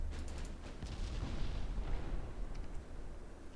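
Naval guns firing 10-inch rounds in a naval battle game boom in a rapid, rumbling series of heavy blasts, continuous and loud with layered echoes.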